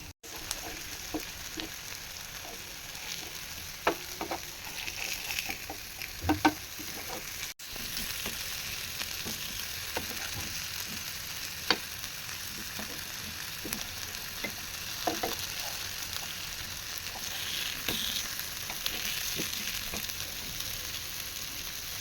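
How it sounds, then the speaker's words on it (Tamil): Food frying in a pan with ginger, garlic and curry leaves: a constant close sizzle running unbroken for over twenty seconds, dotted with small pops and occasional stirring clicks, and no voices. "ஒரு தடவை அப்படியே நம்ம வறுத்து எடுத்துட்டு அதுக்கப்புறமா மீதி இருக்கிறத வறுத்து எடுத்துக்கலாம்"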